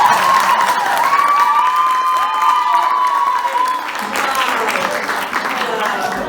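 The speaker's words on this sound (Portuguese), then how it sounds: "vamos dar uma salva de palmas pra essa raça" An audience applauds and cheers at a church music workshop, steady dense clapping mixed with voices and shouts while sustained music or tones carry underneath, loud and continuous throughout.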